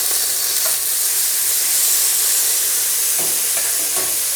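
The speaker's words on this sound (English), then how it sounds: "they're going to go right in the wok and sizzle" A steady, loud sizzle of drained bean sprouts frying in a hot wok, with a few scraping stirs near the end.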